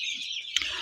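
Poultry chickens in a farm house with timber-waste litter: a dense chorus of high chirping and clucking, fairly loud and steady with one brief sharper peck or squawk, no talk.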